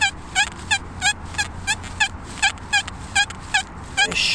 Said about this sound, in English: Now here's the small signal. It's louder than most of them I've had today.